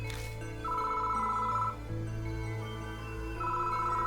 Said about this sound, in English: The phone suddenly started ringing.